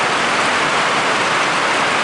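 Steady, dense rain hiss fills the whole stretch, loud and close, with no voices or other distinct sounds over it.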